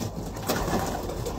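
Pigeons coo continuously in a pigeon loft in California, a close, dense layer of soft throaty calls that fills the space.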